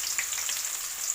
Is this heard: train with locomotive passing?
no